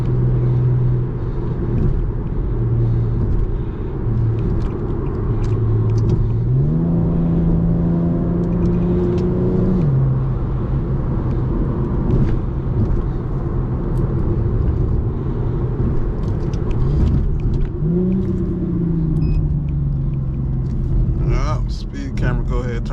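An Infiniti G37 drives with a steady engine drone. The engine rises into two distinct revving accelerations with climbing pitch, and someone talks over the sound throughout.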